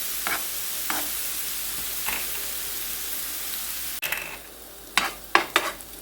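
Minced meat goes into a frying pan and sizzles under a steady hiss, with light stirring scrapes early on and a louder clatter of spatula strokes toward the end.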